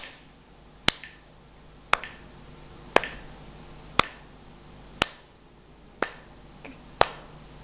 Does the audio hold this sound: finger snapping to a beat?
yes